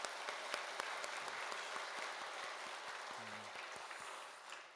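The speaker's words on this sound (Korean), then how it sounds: "우리 그 하나님께 미리 우리 감사의 마음을 담아서 박수로 한번 영광 올려드리겠습니다" A church congregation claps together in worship, a steady broadband patter of many hands held at an even level for several seconds, with a brief murmur of voices partway through.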